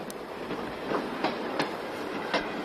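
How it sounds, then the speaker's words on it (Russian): A railway carriage rolls along the track, giving a steady, evenly spaced clickety-clack of wheels over rail joints beneath a continuous rumbling hiss, fairly close and with no voices. "Они едут все в этом поезде."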